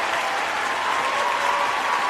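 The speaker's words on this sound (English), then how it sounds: "let me give you a round of applause" A dense round of applause from an audience, continuous and fairly loud, with even clapping sustained throughout without voices on top.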